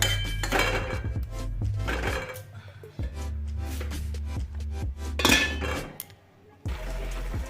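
A metal lid clatters and clinks onto a pan of shim posto, flat beans with poppy seed paste, as it cooks: a few sharp utensil knocks and rattles close by, then a brief quiet pause.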